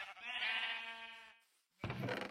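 Sheep bleat from a pen on a small farm, one long wavering bleat close by followed by a brief rougher cry.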